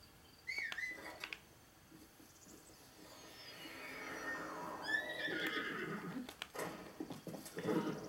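A horse whinnies loudly with a rising, wavering neigh, followed by snorting and a few hoof clops, without any talking, in the video game The Legend of Zelda: Breath of the Wild.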